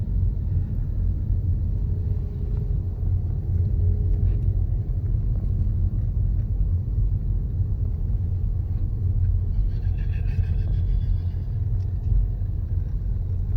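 A car drives through a ghost town, with a steady low engine and road rumble that holds even and fairly loud throughout, with no voices.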